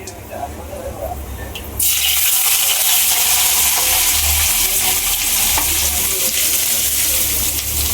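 Cumin seeds hitting hot oil in a home kitchen, a loud sudden hiss that jumps up and holds as a dense, steady sizzle, close and continuous.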